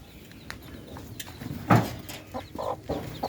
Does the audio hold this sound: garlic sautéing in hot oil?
no